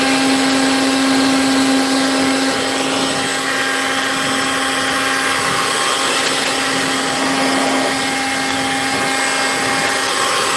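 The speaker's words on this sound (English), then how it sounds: "I said love the blower" A small blower runs continuously at close range, a loud, steady whine with a constant pitched hum that holds evenly from start to finish, no talk.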